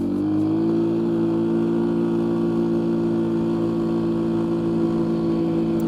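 A Polaris Sportsman 550 XP ATV engine drones steadily and loudly at speed, its pitch rising slightly at first and then holding an even, sustained hum with no talking.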